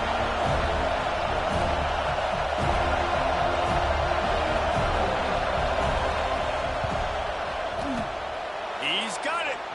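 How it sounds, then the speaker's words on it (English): A football stadium crowd roars as a field goal unit lines up for a 47-yard kick on the road, with a dense, sustained rumble of noise under commentary, in a college football video game. "This crowd trying to do its part to get inside the kicker's head."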